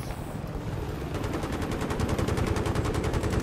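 Rapid automatic gunfire in a Battlefield 3 multiplayer match, a steady fast burst of evenly spaced shots that builds from the start and runs nearly three seconds over constant background rumble, with no talk.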